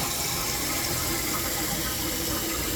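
A toilet flushes after a new flush valve and flapper are fitted, water rushing loudly out of the tank in a continuous churning gush that fills the whole stretch, with no voices over it.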